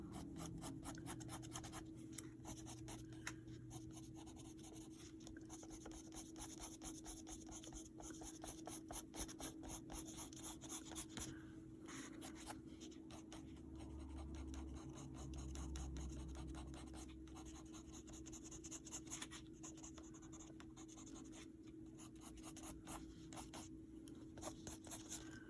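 A black Neocolor II wax pastel crayon is scribbled across paper in quick, continuous scratchy strokes, close but soft, running steadily without speech.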